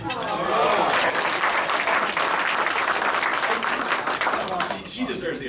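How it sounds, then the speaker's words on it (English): At a Rotary Club meeting, members break into dense, sustained applause filling the room, with voices mixed in, easing off slightly toward the end. "She deserves the applause."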